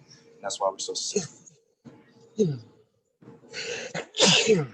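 A man sneezes several times in a row at a football postgame press conference after a Clemson win over Georgia Tech. The sneezes are loud and sharp and come between his spoken words.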